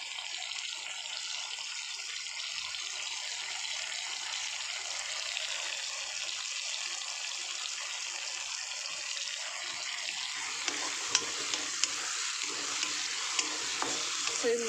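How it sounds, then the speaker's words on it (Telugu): Coriander leaves frying and being stirred in a pan with tomatoes for a chutney, a continuous sizzle with scraping stir sounds and a few sharp clicks of the spoon toward the end, close and steady. "ఇది మొత్తం మంచిగా ఫ్రై అవ్వాలి"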